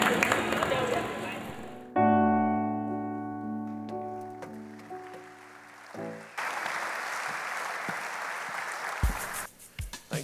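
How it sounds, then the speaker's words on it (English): Audience at a memorial service breaking into applause: clapping rises after an organ chord fades, building into a dense, fairly soft round from the gathered mourners, then tapering with a few thumps near the end. "A round of applause for him."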